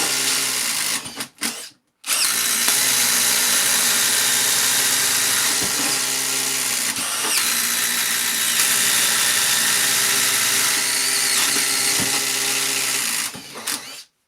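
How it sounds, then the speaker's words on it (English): A cordless impact driver bores holes with a 25mm speed bore bit, giving a loud, continuous whirring drone with a rattling hammer texture, stopping briefly early on and again at the end. "Next up we'll drill some holes with this 25mm 1-inch speed bore bit."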